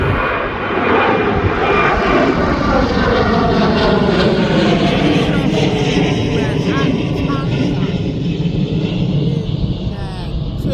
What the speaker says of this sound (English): That Jet 2 there has just took off.